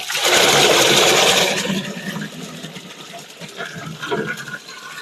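Liquid poured into a pot of moonshine mash made from Christmas dinner leftovers after resting with pectic enzymes, a loud rushing splash at first that settles into a softer, steady trickle.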